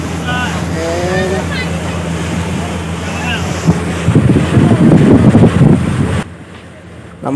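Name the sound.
boat moving on Ana Sagar lake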